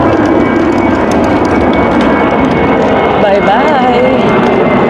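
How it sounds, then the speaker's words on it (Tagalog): A loud, continuous roar of an airplane passing overhead fills the scene at close range, with a steady broadband rumble throughout and voices faintly mixed underneath. "Ayun na yung aeroplano."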